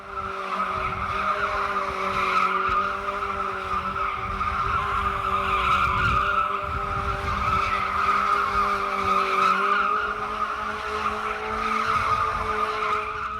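Stunt motorcycle ridden with no front forks or front wheel at a show: a steady, loud engine drone with a continuous screeching tire-skid tone held throughout, no talking.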